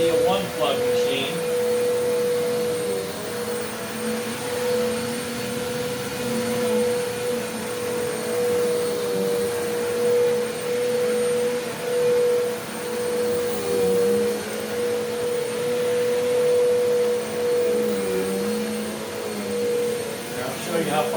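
Eureka The Boss Capture bagless upright vacuum cleaner running continuously with a loud, steady, close whine and a hum, while a person talks over it.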